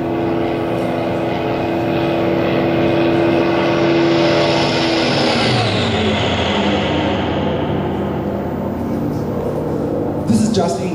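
A propeller aircraft engine from the IL-2 combat flight sim drones loudly and steadily, its pitch shifting midway as the plane passes or maneuvers.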